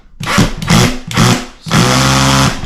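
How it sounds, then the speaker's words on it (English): Cordless drill set to its lowest torque drives a screw into a wall stud for a floating shelf, heard as three short close whirring bursts and then a longer sustained run. "So I have my drill set on the lowest torque setting."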